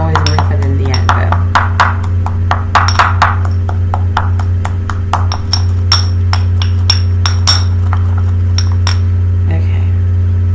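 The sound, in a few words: grinding incense ingredients for a smudging recipe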